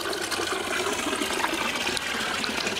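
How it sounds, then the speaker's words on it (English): Steady rush of water from a nature pond with a fountain and a small waterfall, a continuous splashing wash that holds at an even, fairly close level throughout, with no talking. "The nature pond, which has got the fountain and a waterfall."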